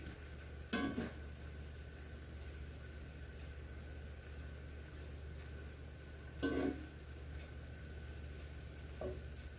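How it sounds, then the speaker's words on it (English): A spoon clatters against a pot of kielbasa sausage, cabbage and potatoes in two short scraping bursts and a faint third, over a steady low hum of stovetop or kitchen noise. "And you go ahead and give a good stir again to evenly distribute."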